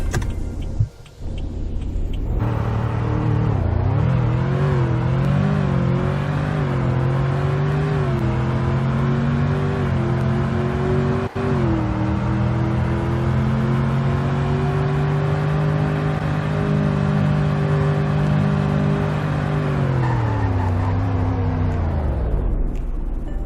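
Ram truck in the Roblox game Greenville revs up and accelerates hard from a standstill, its engine note climbing steadily in pitch for about twenty seconds, then winding down as it brakes to a stop; loud and alone.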